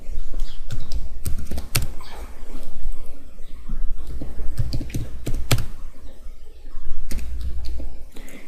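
Fast, steady typing on a computer keyboard while editing a file in the vi editor on Red Hat Linux, dense rapid key clicks with occasional louder strokes, close and continuous.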